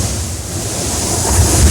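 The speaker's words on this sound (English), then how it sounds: "The geyser-like explosions are triggered by onrushing waves that work their way under the lava shelf and then burst up through the opening." Waves surge under the lava shelf at Spouting Horn blowhole on Kauai, a loud, rushing surf roar that swells toward the end.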